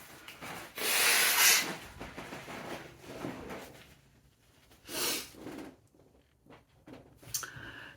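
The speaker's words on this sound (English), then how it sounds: "I have to blow my nose" A person blowing their nose in a few bursts of breathy, hissing snorts, close to the microphone, separated by quieter gaps with faint rustling.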